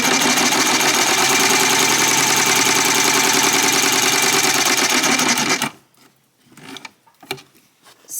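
A sewing machine stitches heavier-weight home decor fabric with a loud, steady mechanical whirr for about five seconds, then stops abruptly, leaving quiet clicks and handling noises.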